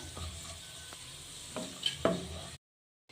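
Raisins fry in ghee with a faint, brief sizzle broken by a few spoon clicks and scrapes, then cutting off abruptly to silence.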